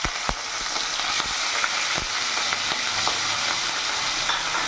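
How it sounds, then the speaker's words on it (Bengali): Prawns sizzle steadily in hot oil in a pan for a jackfruit and prawn dish, a continuous loud crackle broken by a few sharp spatters and pops, with no voices. "ওই তেলের মধ্যে এখানে আমি চিংড়ি মাছগুলো দিয়ে দেবো।"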